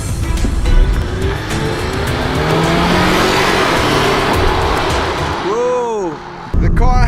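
A sports car set to sport plus mode accelerates hard in a race against a fast RC car, its engine roaring loud and close with a brief tire squeal, and excited voices shout over it near the end.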